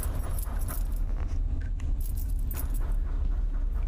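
Keys jangle as they are picked up in a horror video game, a steady metallic rattling over a constant low ambient rumble, with no voices.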